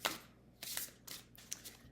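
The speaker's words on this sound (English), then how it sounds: "just shuffling them up until one pops out" Tarot and oracle cards riffling in a few quick bursts, close and crisp, with short pauses between shuffles.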